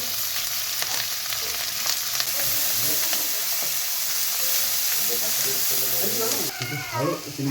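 Onion and green chilli sizzle and fry steadily in hot oil, a continuous close crackle with occasional stirring scrapes and a brief burst of louder activity near the end.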